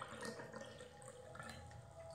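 Hot water poured into a bottle, a continuous rushing gurgle that holds steady for about two seconds, close but not loud, with no voices over it.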